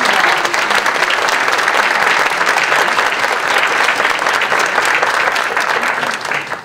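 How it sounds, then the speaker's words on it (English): Round of applause from the audience at a Delaware Technical Community College Black History Month celebration, steady dense clapping held at an even level for several seconds before tapering slightly. "Let's give them a round of applause."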